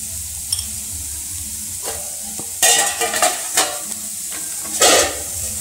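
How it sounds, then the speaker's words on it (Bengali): Chopped beetroot and carrot fry in a pan with salt, giving a steady sizzle broken by a few louder bursts of scraping and stirring, close up, with no one talking. "চাপা দিয়ে দিয়ে একটু ভেজে নেব"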